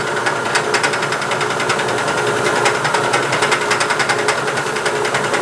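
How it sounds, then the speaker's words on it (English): Fly cutter on a milling machine climb milling a metal part, a fast, even, rattling chatter that holds steady and loud, close up with no voices. "I like to climb mill with a fly cutter because it leaves a nice clean edge"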